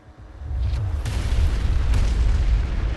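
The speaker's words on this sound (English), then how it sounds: "Anti-witchcraft cannon has struck the target." An anti-witchcraft cannon in the video game Arknights strikes its target with a deep booming blast that rolls into a sustained, heavy rumble, loud and alone.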